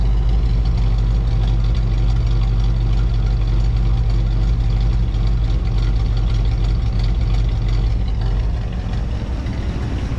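A 1957 Chevrolet Bel Air engine with stock exhaust idles steadily and quietly with a smooth, low exhaust rumble, continuous and even throughout.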